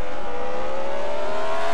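Race cars at the Portland GP with a steady, loud engine drone and a gradually shifting pitch as a car passes close by, with no talk over it.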